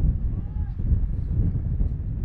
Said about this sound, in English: Wind is gusting around.